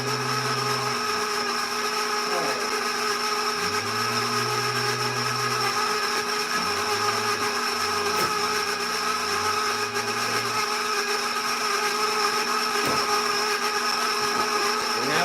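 An electric mixer whirs steadily while beating egg whites for a vanilla cake, a constant motor drone with the pitch shifting now and then as the beaters move through the bowl.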